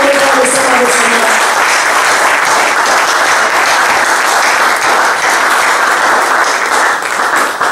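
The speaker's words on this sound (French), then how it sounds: "Acclamez très fort le roi des rois, le Seigneur des Seigneurs." A church congregation applauding and cheering, loud sustained clapping from a large crowd that fills the whole stretch, with voices rising over it at the start.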